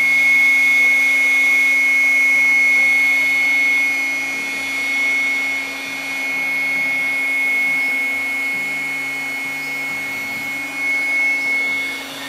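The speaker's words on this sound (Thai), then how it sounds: "กำลังเติมลมให้กับที่นอนครับเราเอาที่นอนลมมาด้วย" A steady, loud electric air pump drones while inflating an air mattress at a riverside campsite, a continuous close whine with a faint high tone and slight dips in level.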